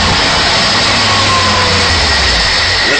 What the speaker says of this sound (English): Listen to a startup.